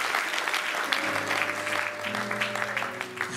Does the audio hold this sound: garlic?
no